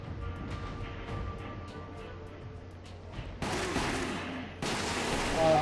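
Shotgun blasts in Resident Evil: The Umbrella Chronicles, a couple of loud, broad bursts arriving late over a busy game soundscape of rattling gunfire, with no talk.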